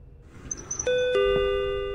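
A doorbell chime in a video game rings out loud and clear, two bright sustained tones that ring on and slowly fade, after a few quieter high electronic blips.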